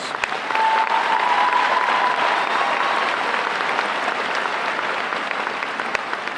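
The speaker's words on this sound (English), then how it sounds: "Please give these students a round of applause." A high school commencement audience gives a sustained round of applause, dense and even clapping filling a large space from start to finish.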